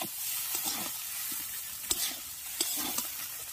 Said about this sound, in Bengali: এবার সমস্ত কিছুর সঙ্গে চাউমিনটাকে ভালো করে ভেজে নেব।